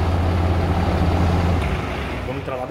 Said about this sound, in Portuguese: Galera, sente só o som desse motor aqui.